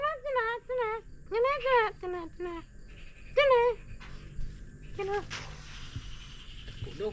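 A dog whines and yelps in a series of short, high, rising cries, fairly close, with quiet background voices.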